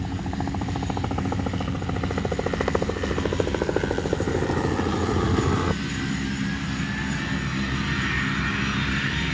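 Aircraft engines in Papua New Guinea, a loud, steady propeller drone with a fast pulsing beat that changes character partway through, close and continuous, no talking.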